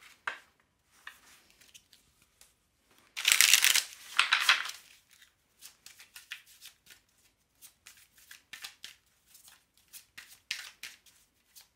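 Oracle cards being shuffled by hand, a soft riffling swish with a louder burst near the middle, then lighter intermittent card flicks and taps, close and fairly quiet.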